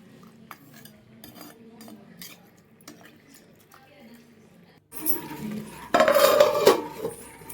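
Masala being stirred and sautéed in oil in a clay pot for a village-style dried fish curry, with soft scraping and clinks of a utensil against the pot, then louder sizzling and a bright metallic clatter near the end.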